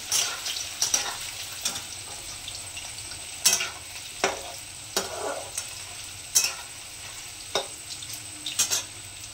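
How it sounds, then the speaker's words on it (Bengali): Potatoes with cumin and bay leaf fry in a pan, a faint steady sizzle broken by sharp scraping and clinking of a spatula stirring at irregular intervals, with no voices. "জিরে দিয়েছি, আলুটা ভাজবো।"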